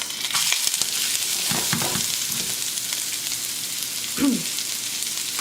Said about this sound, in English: So let's go ahead and get this sauteing